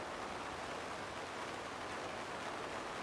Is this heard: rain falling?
yes